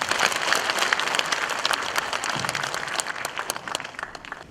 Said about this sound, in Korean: 우리 강성호 중령님께 박수 부탁드리겠습니다